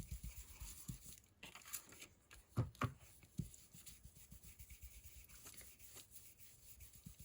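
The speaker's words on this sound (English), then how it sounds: "I'm just running that ink across the edge" An ink pad rubs across the edge of a paper envelope made from book pages, producing soft, close scraping and brushing strokes with a few sharper taps, quiet overall.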